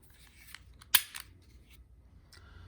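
A bronze Taurus TX22 .22 pistol has its slide pulled back and locked into place during unboxing, a single sharp metallic click followed by a quieter rattle, close and otherwise quiet.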